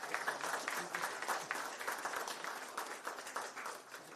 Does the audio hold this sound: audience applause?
yes